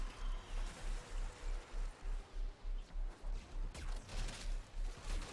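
The Arcoplasma, a clan tech weapon in the sci-fi shooter Warframe, fires as a steady pulsing stream of plasma bursts over a dense hissing wash, with a regular throbbing rhythm throughout.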